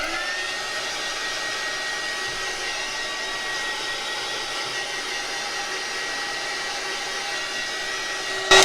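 A heat gun blows a steady, loud, even whoosh of hot air over resin coasters for several seconds without pause, ending in a brief bump near the close.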